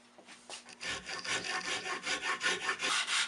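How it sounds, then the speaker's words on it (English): A rasp file scrapes back and forth across a wooden beam in quick, rhythmic strokes that grow steadier and louder, with no talking. "Some clean up with a rasp file."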